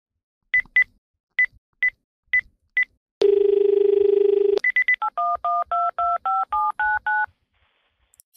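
A hotel room telephone dials Paris: a few short single beeps, then a steady dial tone, then a quick, even run of touch-tone digits, all clear and close, with no one speaking.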